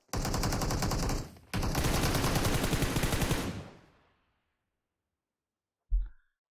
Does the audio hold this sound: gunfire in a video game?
yes